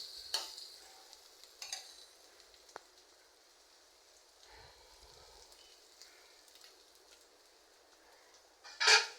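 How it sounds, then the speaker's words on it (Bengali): Vegetable bhaji frying in a pan, a faint steady sizzle punctuated by scraping stir strokes and a brief clatter, close and quiet with no talking. "এই তো ভাজিটা কিন্তু আমার প্রায় হয়ে যাচ্ছে, আরও ভাজা ভাজা হলে নামিয়ে ফেলবো।"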